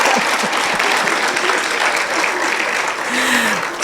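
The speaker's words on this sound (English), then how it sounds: "Clap." Sustained audience applause at a talk session, a thick continuous patter of many hands at steady volume, with faint voices mixed in.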